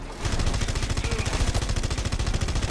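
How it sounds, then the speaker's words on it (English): Enemy gunfire in the video game Red Faction: Guerrilla crackles in rapid automatic bursts, loud and dense, with sharp repeated shots running continuously throughout. "Oh, I'm being shot at from below."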